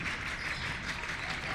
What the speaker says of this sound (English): Pelican Rapids fans trying to cheer their team on